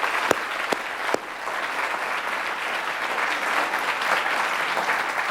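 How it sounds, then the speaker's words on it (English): An audience claps steadily throughout, a dense, sustained round of applause with a few sharper claps near the start. "let's have one more round of applause for our terrific speakers"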